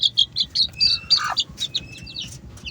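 Newly hatched chicks in a cage, a rapid run of shrill high peeps and chirps at close range.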